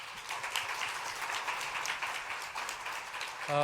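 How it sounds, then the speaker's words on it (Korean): A congregation at a Sunday church service gives a warm round of applause of thanks, a soft, steady patter of many hands heard from across the hall. "뜨거운 감사의 박수 한번 하겠습니다."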